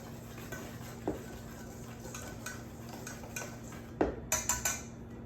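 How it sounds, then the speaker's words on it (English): A whisk stirs paprika, chipotle seasoning and mozzarella seasoning into flour in a bowl for crispy fried chicken. Quiet, irregular scrapes and soft taps sit over a low background hum, with a few sharper clinks near the end. "our paprika, our chipotle seasoning, our mozzarella seasoning, and we are going to whisk it together"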